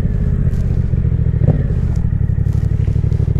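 A Yamaha Tracer 700 motorcycle engine runs steadily up close, with a brief clunk midway as the rider forces a stiff gear change into third.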